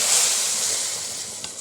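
A hot spiced tadka is poured into cooked daal, letting out a loud, steady burst of hissing sizzle that fades slightly over its short span, with no voices.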